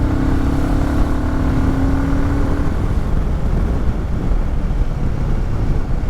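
Royal Enfield Himalayan 450 motorcycle cruising downhill in fifth gear at low speed, a steady engine hum with constant wind rush, a faint rising tone early on, no voices.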